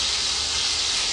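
Chicken sizzling in hot oil in a pot during curry chicken cooking, a steady bright hiss that holds evenly throughout without talk.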